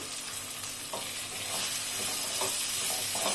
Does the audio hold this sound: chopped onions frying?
yes